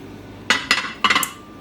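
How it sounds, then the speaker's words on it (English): A secondhand dish with fading printed lettering clinks against hard kitchenware while being washed by hand, giving four or five quick, bright ceramic knocks in two short clusters, close and fairly loud, with no talking. "I'm gonna hand wash this because I don't want this to come off."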